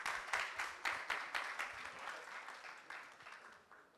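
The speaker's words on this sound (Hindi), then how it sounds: "जोरदार तालियां इस प्यारी सी ऑडियंस के लिए।" Rhythmic clapping from a small audience at a multilingual poetry recitation, a few people clapping in unison with an even, quick beat that stays moderately soft throughout.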